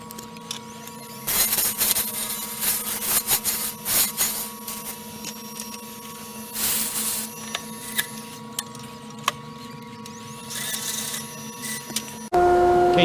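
A wooden salt and pepper mill body being shaped on a Rikon 70-220VSR midi lathe, with a steady motor hum and a tonal whine under bursts of scraping cuts that come and go. The cutting is loud and close, and no one speaks.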